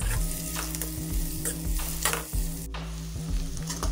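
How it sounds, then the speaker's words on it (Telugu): Sliced onions frying on low heat in a pan with curry leaves for an egg onion pulusu, a continuous close sizzle broken by repeated stirring scrapes, no voices. "ఈ విధంగా సిమ్లో పెట్టుకొని ఉల్లిపాయల్ని ఫ్రై చేసుకోవాలి."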